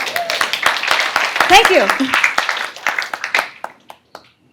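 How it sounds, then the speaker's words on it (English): An audience at a conference keynote claps in a dense burst of many hands that thins out into a few scattered claps before fading, with a brief voice over the start. "We should clap for her."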